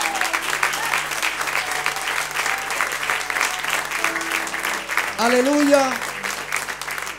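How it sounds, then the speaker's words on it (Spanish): A church congregation applauds steadily, sustained clapping while a voice calls out over it near the end. "denle un gran aplauso al Señor"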